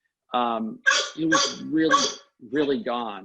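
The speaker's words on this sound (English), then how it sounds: "And I apologize for my dog." A dog barks and yelps in short bursts, close and fairly loud, mixed in with someone talking in a home office.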